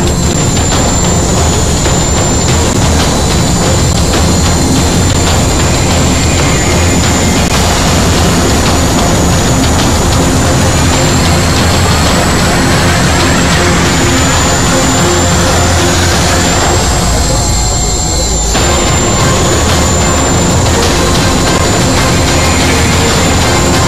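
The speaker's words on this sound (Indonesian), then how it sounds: "kita akan menurunkan helikopter mini tersebut tepat di tengah-tengah lingkaran yang dibuat oleh manusia" A mini helicopter flies during an on-stage illusion act at the Trans Media 12th anniversary show. Its loud, continuous engine and rotor roar with a high whine holds steady throughout, close and dominant, with no talking.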